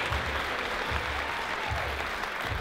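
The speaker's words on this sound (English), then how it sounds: "let's give her a round of applause as she makes her way up on stage" A theatre crowd at a magic show claps as a volunteer walks up on stage, a continuous round of applause heard from a distance at a fairly low level, with faint low thumps beneath it.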